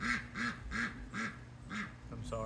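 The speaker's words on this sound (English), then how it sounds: "I'm sorry, the duck keeps trying to say a few things." A duck on a farm quacks about five times in a steady, evenly spaced run, loud and close, with a different short call at the end.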